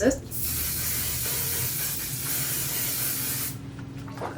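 Until Dawn mattifying setting spray mists onto a face in one continuous, close hiss lasting about three seconds, followed by quiet.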